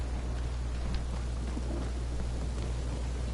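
Steady rain falls in the Guardians of the Galaxy video game, a constant dense patter over a low rumbling hum, with no voices.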